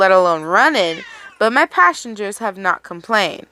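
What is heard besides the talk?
cat meowing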